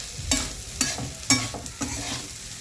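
Sabudana (tapioca pearls) for khichdi being stirred and sautéed in a pan, with several distinct scraping spoon strokes over a soft, steady sizzle, close and moderately loud, no talking.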